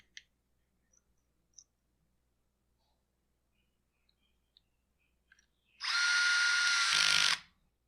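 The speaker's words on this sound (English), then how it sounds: "Crank her down tight. Crank down our clamping screws." A power tool whirs in one short, loud burst near the end while clamping screws are tightened on the drive tube of a Husqvarna 525PT5S pole trimmer. Faint clicks and handling taps come before it in near silence.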